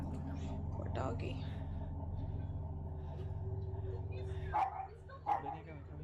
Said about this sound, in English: Deja de ladrar, quédate acá.